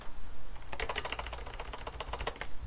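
Clicks of a computer keyboard as Ctrl and numpad plus keys are pressed during Minecraft cinematic editing work, a rapid run of light, close keystrokes lasting a couple of seconds with no talking.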